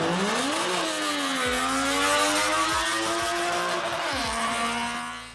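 A three-cylinder two-stroke car engine revs hard nearby, its buzzy pitch climbing, dipping briefly and rising again, then slowly fading as the car pulls away, with no one speaking.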